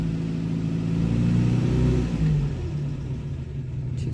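A Renault 10 engine idles just under 1,000 rpm, a steady low rumble with a slight swell in the middle before settling back, no talking.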